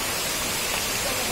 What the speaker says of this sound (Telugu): ఇదండి వాటర్ ఫాల్.